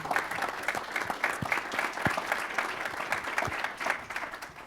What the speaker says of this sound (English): Can we give them a big round of applause, please?